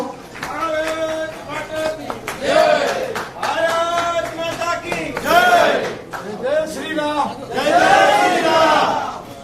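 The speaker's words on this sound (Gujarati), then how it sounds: "આપ સૌ એમને પણ તાળીઓના ગગડાટથી વધારશો." A crowd at a political event welcoming a leader into the party claps and cheers in repeated swelling waves, loud and dense, with shouting voices mixed in.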